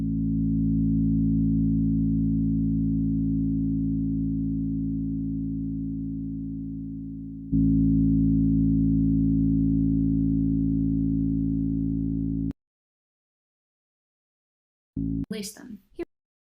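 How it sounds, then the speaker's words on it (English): A synth oscillator passes through an analog filter module, a steady, loud droning tone that shifts timbre partway through, then cuts to silence before a short burst of filtered sound. "I really like how it sounds when filtered through this Your Analog Filter 8, an analog filter module."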